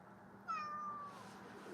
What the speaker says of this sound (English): You're a nice kitty, aren't you, Tiger?